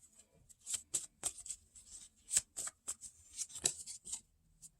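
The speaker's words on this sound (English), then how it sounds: "y'all see me shuffling" Tarot cards are shuffled by hand in a rapid series of soft, crisp riffling and slapping sounds, close and quiet, with uneven rhythm over a few seconds.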